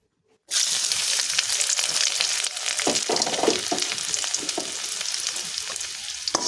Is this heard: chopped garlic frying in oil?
yes